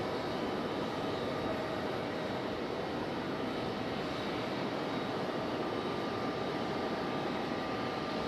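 A Boeing 777 airliner pushing back at Raleigh Durham International Airport, heard as a steady, loud, unbroken engine roar with no distinct changes, and no voices.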